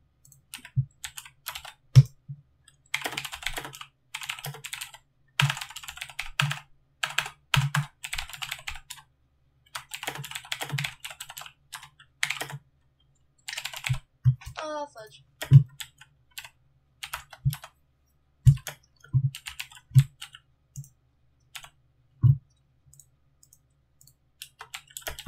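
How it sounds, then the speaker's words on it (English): Fast typing on a computer keyboard, close and clattering in quick bursts of keystrokes separated by short pauses, with no talk. "you type so fast"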